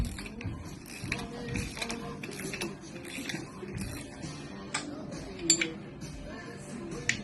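A Porsche M96 engine crankshaft turned slowly by hand during cam timing work, giving soft mechanical clicks, ratcheting and metallic clinks close by, with no talking.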